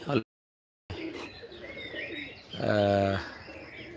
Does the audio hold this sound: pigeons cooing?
yes